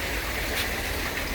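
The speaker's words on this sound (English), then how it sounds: "That noise is the sound of my Nexus running dry." A Nexus pond filter hisses and gurgles as it runs dry while the pond is emptied, a steady rushing, splashing noise heard up close.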